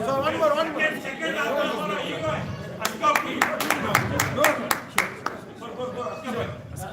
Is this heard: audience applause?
yes